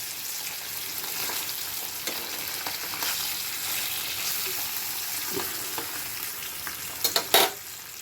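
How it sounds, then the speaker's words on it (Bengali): Four pabda fish fry lightly in hot oil, a continuous close sizzle holding steady throughout, with a few louder scrapes and knocks near the end. "মাছগুলো আমি খুব কড়া করে ভাজবো না, একটু হালকা করে,"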